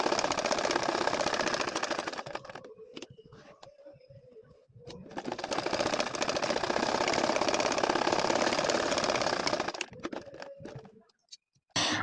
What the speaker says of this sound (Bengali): এখন দেখেন বাকি যে আরেকটা খোপ আমাদের রয়েছে সেই খোপটা একইভাবে আমি সেলাই করে নিব।